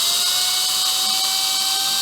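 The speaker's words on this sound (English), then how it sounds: "take an 1/8 inch drill bit and make a pilot hole all the way through" A power drill with an 1/8 inch bit bores a pilot hole through an entry door, giving a loud, steady high-pitched whine that runs nonstop at close range with no talking.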